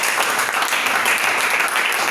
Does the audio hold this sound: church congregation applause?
yes